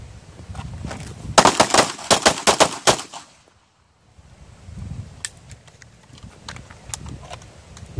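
Pistol fire at a shooting range on a training day comes as a rapid volley of sharp, loud shots in quick succession. A brief silence follows, then a scattering of quieter, more distant shots.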